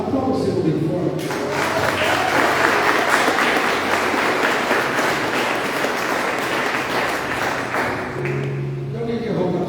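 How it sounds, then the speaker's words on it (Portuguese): A church congregation applauds loudly during a worship service, a dense rush of clapping that swells in and holds for several seconds before easing off, with a voice audible at the start and end. "se você pode aplaudir o Senhor bem forte."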